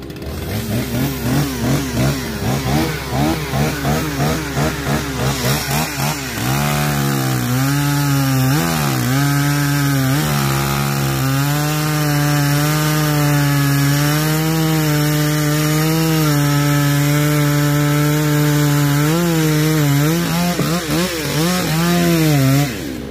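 A chainsaw fitted with a brand-new chain cuts through wood, its engine droning loud and close with a steady high whine that bogs and rises as it bites, running for the whole stretch with no talking.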